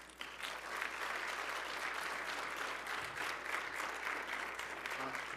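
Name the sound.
audience applause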